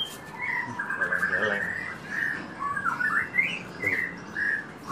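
Several songbirds, including magpie robins, chirp and whistle in quick, bright bursts against a faint background murmur at a bird breeding farm.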